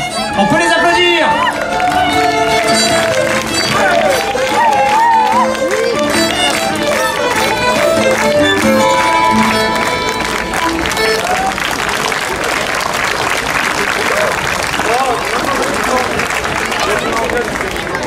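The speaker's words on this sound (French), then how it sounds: "Allez, on peut les applaudir." Audience at a Breton dance competition in Landerneau applauds loudly and continuously, with crowd babble and music-like tones mixed in early on and clapping carrying through to the end.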